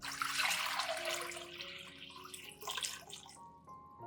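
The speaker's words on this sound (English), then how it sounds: "Use 1 liter of water." Water pours steadily into a container, a bright rushing splash that thins out and trails off near the end.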